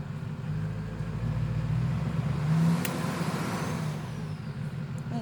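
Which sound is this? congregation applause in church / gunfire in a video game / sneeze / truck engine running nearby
truck engine running nearby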